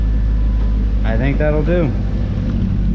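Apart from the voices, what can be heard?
Ford Mustang GT engine idling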